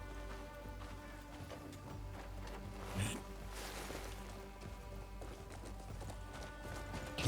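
Rhythmic clip-clop of hooves from a galloping horse in the video game Crimson Desert, over a steady synthetic background hum, with a brief rustle midway.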